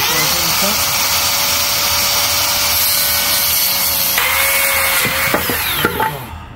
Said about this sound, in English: We're going to set it up for Makita 40 amp saw. So we're going to go ahead and cut right now.